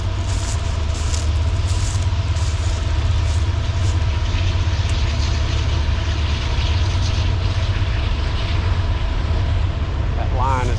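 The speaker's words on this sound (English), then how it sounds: "There goes the train." A loud, continuous low rumble of a train rolling along an old mountain railway track near the Oxmoor blast furnace, with a steady mechanical roar and a faint squeal near the end.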